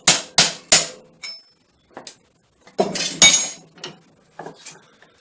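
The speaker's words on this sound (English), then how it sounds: "Doesn't need much effort with the hammer." Sharp metallic hammer strikes on metal held in a vise ring out close by, three quick blows, then scattered lighter taps and a burst of heavier clanging, with short pauses between.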